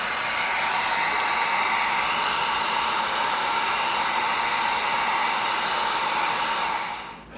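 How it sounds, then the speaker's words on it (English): A heat gun blows steadily while heat-sealing cut EVA foam pieces for a knight gauntlet, giving a loud, continuous airy roar that cuts off just at the end. "now we're going to heat seal these before we glue them"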